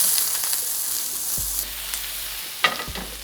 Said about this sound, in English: Leave the pan over a medium heat to cook your peppers and your onions.